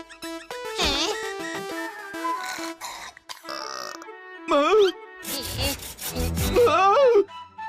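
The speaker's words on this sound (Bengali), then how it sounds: "ক্যাম্প ফায়ারের জন্য কাঠ কাটছি, কিন্তু দেখ না, এই ডালটা তো কাটছেই না" Cartoon sawing of a wood branch for a campfire, a scraping, rubbing effect that comes and goes in strokes, mixed with squeaky cartoon voices and music.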